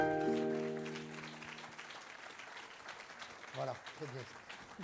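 Audience at a regional business awards evening applauds a company president being introduced, the clapping fading under a lingering musical tone and giving way to a speaker's voice.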